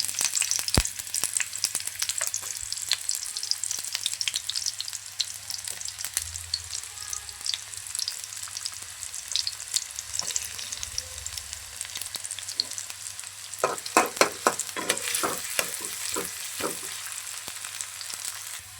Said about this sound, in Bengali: এখন তেল অ্যাড করে দিয়েছি দিয়ে দেবো পরিমাণ মতো পেঁয়াজ কুচি এবং রসুন কুচি